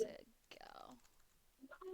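Quiet clicks of typing on a computer keyboard come in short bursts, with a person speaking faintly between them.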